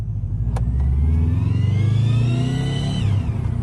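A Jeep engine revs under turbo boost, and a rising, buzzy, kazoo-like whine climbs in pitch over the steady engine drone, then drops away as the throttle eases, heard up close without talk.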